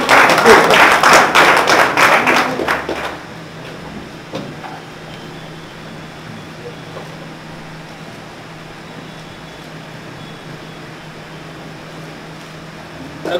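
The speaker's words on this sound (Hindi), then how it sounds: "तालियों में कमी नहीं चाहिए" Applause at a farewell gathering, a loud burst of dense clapping for about three seconds that cuts off abruptly, followed by quiet room hum.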